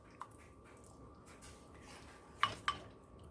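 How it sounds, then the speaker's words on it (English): A spoon stirs sweet and sour pork in a slow cooker, giving two sharp, light clinks close together near the end plus one faint tap earlier, against an otherwise quiet room. "all I'm going to do is just stir this"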